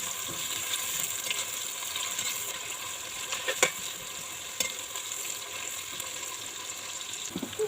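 Onions fry in a pan for a pheasant pilaf, giving a soft, steady sizzle with occasional faint clicks of stirring, quiet and close, with no one talking.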